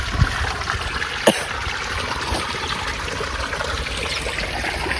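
Irrigation water trickles and gurgles along a field channel in a continuous, moderately close flow, broken by a couple of brief knocks.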